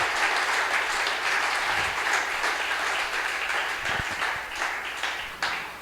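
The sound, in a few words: church congregation applauding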